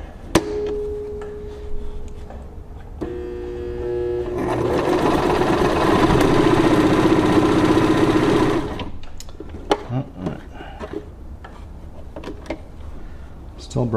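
A Brother VX1500 sewing machine stitches in a fast, steady mechanical whir for several seconds before stopping, preceded by a motor hum and followed by scattered clicks and handling noises.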